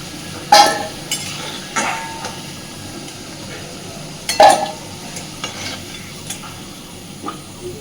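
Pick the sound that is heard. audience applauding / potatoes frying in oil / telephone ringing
potatoes frying in oil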